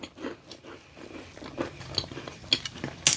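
Close, quiet crunching bites and chewing of a powdered-sugar lemon cookie, irregular crumbly crackles that grow a little sharper toward the end, with no talk.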